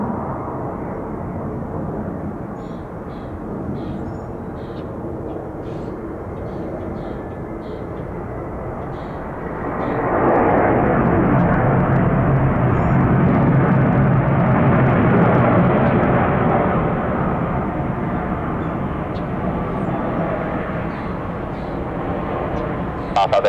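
A Delta jet airliner takes off from runway 26 left at Atlanta International Airport, its engine roar swelling loudly about halfway through into a broad, sustained rumble, with radio voices talking throughout.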